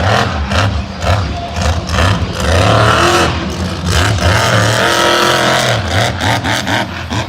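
A monster truck engine roars and revs hard through a power wheelie at a Monster Jam stadium show in Las Vegas, a loud continuous rumble swelling and easing with throttle over crowd-level background noise.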